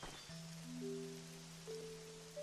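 Rain falls steadily as a broad hiss in a video game, with sustained tonal game sounds layered over it and no talking.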